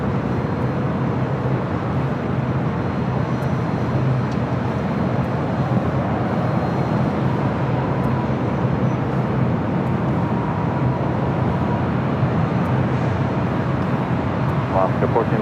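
Airliner taxiing at Los Angeles International Airport, a continuous broad engine rumble and whine at moderate distance, steady throughout with light background noise and no distinct peaks.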